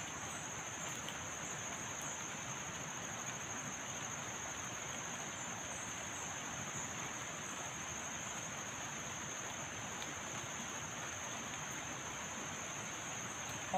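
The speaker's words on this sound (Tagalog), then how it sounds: "Lakas na naman ang ulan." Heavy rain falling in a steady, even hiss that stays unchanged for the whole stretch, fairly faint and distant, with a thin high insect-like tone running alongside and no voices.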